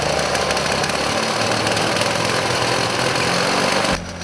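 A Victa Imperial cylinder lawn mower engine runs with its blade spinning, a loud, dense, rattling mechanical roar held steady for about four seconds before cutting off abruptly.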